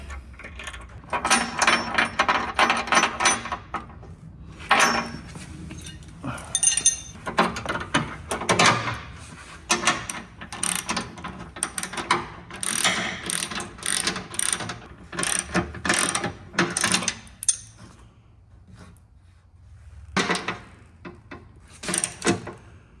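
A nut threaded onto the bolt of an off-road light mount, heard as a series of close ratcheting clicks in short bursts with brief pauses between them.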